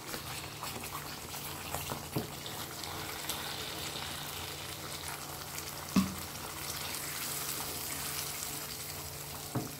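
Paneer masala sizzling and bubbling in oil in a pan as a little water is added, a steady frying hiss throughout with a brief splash-like burst midway; no talking.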